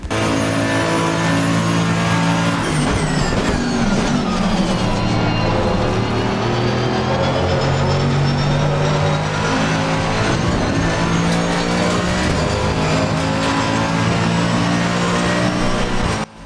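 Race car engines of a McLaren and a Porsche in a racing video game, several engines droning loud and continuous with rising and falling pitch as they accelerate and shift, no talk.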